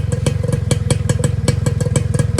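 A Yamaha Nova R motorcycle with a stock exhaust and LS pipe tip idles loudly and close by, its exhaust popping in a fast, steady, lumpy rhythm with sharp clattering bursts.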